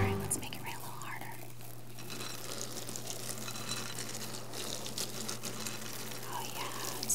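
People imitate rain with soft whispery hissing and patter that resembles a bubbling brook, a steady, faint, rustling wash lasting throughout.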